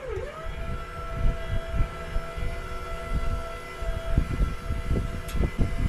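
Motorized landing gear slowly raising a Jayco camper trailer onto a 9-inch landing pad, a steady droning motor whine with a sustained tone and low rumbling, loud and continuous throughout.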